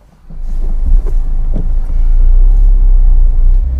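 A Mazda MX-5 RF sports car with a 6-speed manual gearbox, out on a spring evening drive: a low engine rumble swells up from near silence and holds loud and steady, with some wind buffeting.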